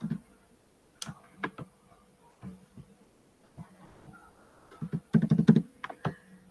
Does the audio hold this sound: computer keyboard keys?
yes